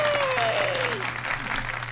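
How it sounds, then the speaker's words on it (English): Applause and hand claps ring out on a personal finance talk show, a short, busy burst of clapping with a voice briefly heard in it. "We have hand claps. Some applause."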